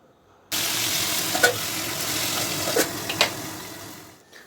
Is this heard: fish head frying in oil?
yes